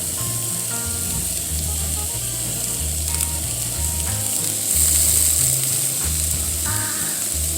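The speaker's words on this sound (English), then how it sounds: "I'm going to put them on this cast iron pan and just slowly cook them." Onions cooking slowly in a cast iron pan, a loud, steady close hiss of sizzling with low hum underneath and a brief brighter burst midway, no one speaking.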